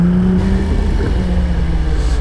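A sports car with a hybrid engine and its original factory exhaust revs high and loud close by, a steady droning engine note held for a couple of seconds with no voices.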